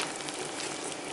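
Sweet pongal (akkaravadisal) simmers slowly in a pot, giving a steady, soft bubbling hiss that stays even throughout, faint and unbroken.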